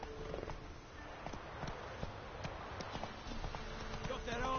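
Roach the horse gallops in The Witcher 3, hooves clip-clopping in a quick, steady rhythm, faint and somewhat distant beneath game ambience and a murmur of voices.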